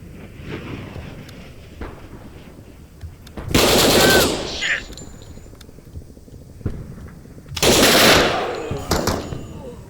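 Two loud bursts of rapid automatic gunfire from the tactical video game Door Kickers 2, a few seconds apart, with scattered fainter pops and thumps between them.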